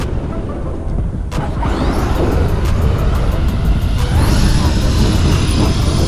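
A Redcat Vigilante RC off-road car runs at full throttle with a steady, loud high-pitched motor whine and gritty rolling noise from the tires on rough ground, close to the listener throughout.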